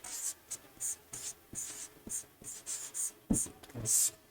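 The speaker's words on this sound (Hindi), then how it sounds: "तो यहाँ पर हम लिखेंगे आम की" Pen strokes scratch across paper in short, quick bursts, close and quiet, as a math solution about a mango garden's length is written out, with faint taps between strokes.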